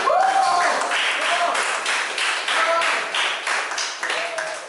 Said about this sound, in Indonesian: Aplaus dulu buat Karin.